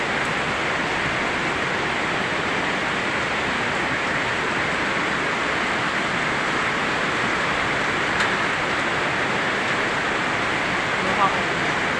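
Floodwater rushing past during heavy rain, a loud, steady broadband roar that continues evenly throughout without breaks.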